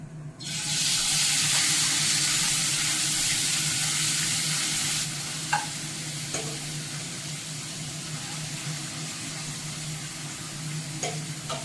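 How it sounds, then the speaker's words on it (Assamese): Fish drops into hot oil and fries, starting with a loud, bright hiss that lasts about five seconds and then settles into a quieter steady sizzle with a few small pops, with no talking. "এতিয়া মাছখিনি দি দিম। তেল গৰম হৈ গ'ল।"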